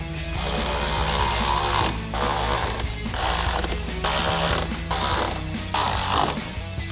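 A ratchet clicks steadily as 8mm bolts are reinstalled across the front of a 2018-2023 Mustang GT during an OEM-style headlight install, coming in loud, close bursts of rapid pawl clicking separated by brief pauses.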